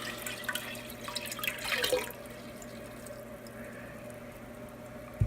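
Washing soda mix poured into a jar, giving a brief trickle and splash of liquid in the first two seconds, followed by quiet room tone.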